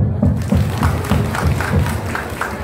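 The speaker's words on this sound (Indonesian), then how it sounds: "Oke, tepuk tangan dulu" Crowd clapping at a Maulid Nabi gathering with a motivational speaker, heard as a steady, rhythmic beat of many hands mixed with low crowd voices.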